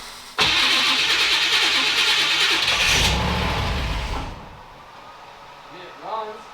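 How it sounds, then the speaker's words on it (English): A faulty car starter grinds and whirs harshly for a few seconds before the engine catches with a low rumble, then settles; a brief voice-like sound follows. "Starter sounds terrible."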